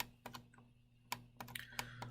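A single computer keyboard key, the escape key, is pressed among a few soft, close typing clicks, the sharp taps standing alone in a quiet room with no talk.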